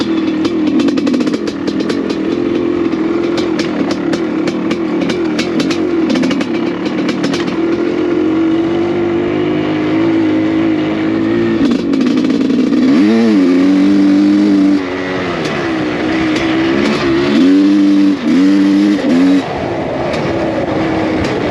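A 1985 CR500AF conversion dirt bike's two-stroke engine runs loud and close, holding a steady drone before revving up and down in several sharp bursts.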